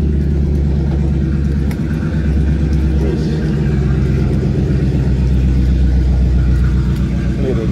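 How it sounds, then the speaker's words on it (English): A loud car with a new muffler rumbles past nearby, a steady, heavy engine drone filling the whole stretch with no clear speech over it. "New muffler on that damn man."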